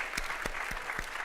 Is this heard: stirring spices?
no